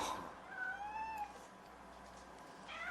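A cat meows in an audiobook scene about a yellow cat, giving a couple of close, rising and falling drawn-out meows, then a fainter meow at the end over a quiet background.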